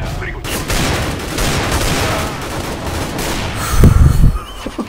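Video game gunfire in a dense, continuous fusillade of rapid shots with a heavier burst near the end, with shouting voices mixed in.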